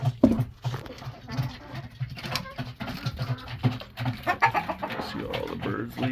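Chickens in a sweltering backyard coop at about 40°C cluck and squawk in irregular bursts, close and fairly loud, with shuffling and rustling movement between the calls.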